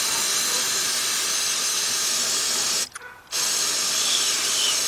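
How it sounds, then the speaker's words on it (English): A spray can of cleaner used on a Volkswagen Beetle engine during head gasket and timing belt work, a loud continuous hiss with one brief pause before it resumes. "Spray it and clean that up."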